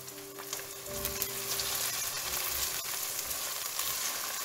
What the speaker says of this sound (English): While we are mixing our onions, now here we can see our onion is getting little bit of brown color